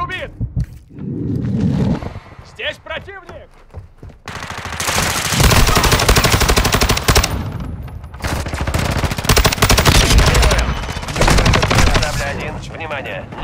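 Rapid automatic gunfire in the multiplayer shooter Call of Duty Modern Warfare 2, long dense bursts of machine-gun fire after a quieter opening with brief game voice callouts, loud and close with short pauses between volleys.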